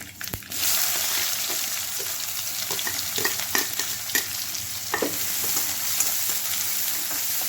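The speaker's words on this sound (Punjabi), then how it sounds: "ਤੜਕੇ 'ਚ ਛੋਟਾ ਜਿਹਾ ਪਿਆਜ਼ ਪਾ ਰਹੇ ਹਾਂ" Onion added to a hot tempering of cumin, mustard seeds and asafoetida fries with a steady, close sizzle, punctuated by scattered pops and spatula scrapes, with no talking.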